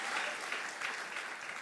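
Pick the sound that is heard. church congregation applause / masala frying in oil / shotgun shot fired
church congregation applause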